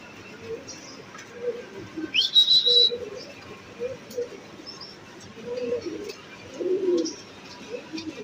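Soft, low pigeon coos repeat in short bursts nearby, with a brief sharp whistle-like chirp and light background noise.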